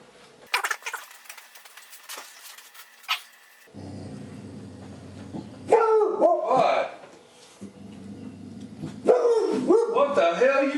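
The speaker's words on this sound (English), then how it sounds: "What the hell are you barking at?" A dog barks in two short bursts of rough, close barks, with people talking in the room before and around them.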